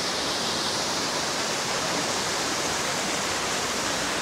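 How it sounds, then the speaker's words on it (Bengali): A clear, fast-flowing mountain stream near a cave temple in Kashmir rushes steadily as a broad, even roar of water, close and continuous throughout. "জলটা দেখেছেন কি পরিষ্কার স্বচ্ছ জলধারা"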